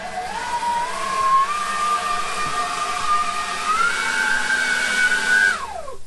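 A Seyvum 40V brushless leaf blower runs steadily alone, a loud airy whine that holds one pitch, then climbs higher as the speed rises before it winds down at the end.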